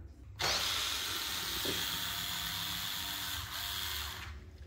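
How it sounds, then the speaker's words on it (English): A cordless drill whirs steadily for several seconds at close range, driving screws into a Traxxas X-Maxx RC truck, a continuous motor buzz with slight changes in pitch as it drives. "Notice how easy this is with a drill."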